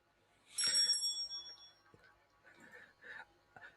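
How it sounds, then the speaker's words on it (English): A boxing-style bell rings once to end the round, a bright metallic strike that lingers briefly, followed by a few short faint sounds. "And there goes the bell."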